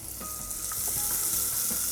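Two medium onions, finely chopped, hitting hot oil for a chicken korma, giving a close, even sizzle and crackle that holds steady for a couple of seconds.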